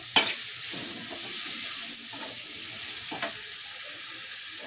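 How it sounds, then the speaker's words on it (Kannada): Vegetables for veg fried rice fry in oil and hiss with a steady sizzle. A few sharp scrapes of a spoon stirring the pan break through the sizzle, and nobody speaks. "ತರಕಾರಿ ಎಲ್ಲ ಎಣ್ಣೆಯಲ್ಲಿ ಚೆನ್ನಾಗಿ ಫ್ರೈ ಮಾಡ್ಕೊಳ್ಬೇಕು."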